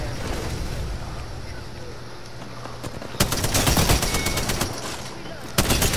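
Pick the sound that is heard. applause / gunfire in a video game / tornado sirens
gunfire in a video game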